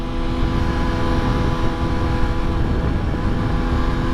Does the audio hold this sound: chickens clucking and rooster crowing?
no